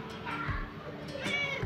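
A cat indoors at home gives faint meows under a steady hum and soft household noise, with two short calls about a second apart.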